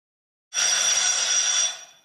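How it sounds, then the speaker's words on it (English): A quiz bell rings once at a school quiz competition, a single bright sustained ring lasting about a second before fading out, loud and alone with no talk. "And that was the bell."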